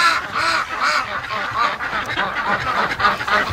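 Breeding ducks quack and honk loudly in a cold garden with deep snow, their calls close, repeated and overlapping in a steady chorus, with no talk.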